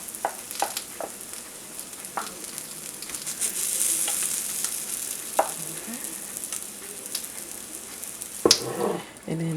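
Waffle batter sizzles in a waffle iron with a steady, faint hiss, punctuated by occasional scrapes and clicks of utensils and a louder knock near the end.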